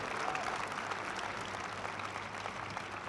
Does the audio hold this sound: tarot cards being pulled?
no